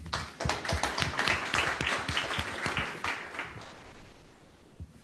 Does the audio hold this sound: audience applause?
yes